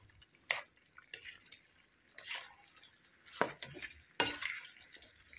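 Chicken feet being stirred in a pan, soft sizzling underneath several distinct scraping and clinking stir strokes, spaced irregularly and fairly close, with no voices.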